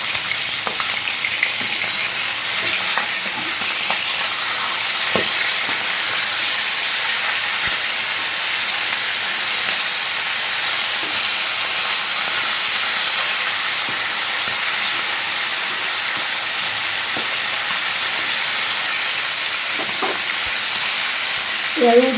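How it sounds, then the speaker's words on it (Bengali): Hilsa fish pieces fry in oil after being turned in the pan, giving a continuous close hiss and sizzle with occasional small pops and utensil touches for over twenty seconds, no voice. "এক পাশটা আমি একটু ভালো করে ভেজে নিলাম আর ওই পাশটা হালকা করে ভাজবো।"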